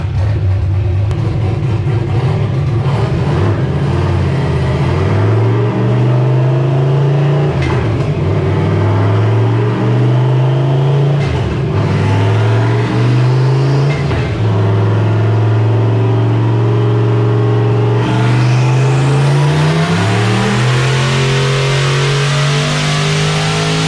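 A turbocharged Ford Foxbody Mustang with a 363 stroker engine revs hard on a dyno, a loud continuous roar whose pitch climbs and drops through repeated pulls, with no talking.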